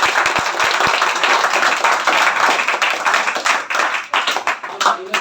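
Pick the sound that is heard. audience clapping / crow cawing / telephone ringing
audience clapping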